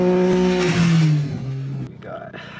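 A motorcycle engine revs loudly up close, its steady droning pitch rising and falling for about two seconds before cutting out, followed by brief scraping and clattering as phones are ridden over.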